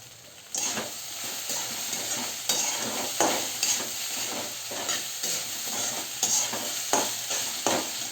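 Kanda poha with oil-roasted peanuts and coriander being stirred in a pan: steady scraping and tossing with a soft continuous sizzle, close and fairly loud, with repeated stirring strokes throughout.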